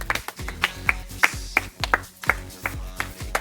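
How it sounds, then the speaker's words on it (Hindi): Rhythmic hand claps from an audience cheering on a contestant at a spoon game competition, sharp repeated beats at a steady tempo, close and moderately loud. "मुकेश भाई ले फिर जोरदार ताली दे"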